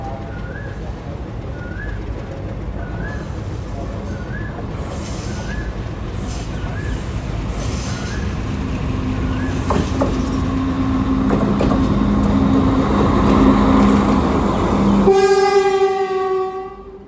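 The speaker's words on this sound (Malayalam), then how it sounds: "ഇവിടത്തേക്ക് വേറൊരു ട്രെയിൻ അങ്ങനെ" Another train pulling into a busy coastal-line station in Sri Lanka, a rising rumble of wheels swelling over several seconds, then a loud sustained horn blast near the end, with pigeons cooing repeatedly throughout.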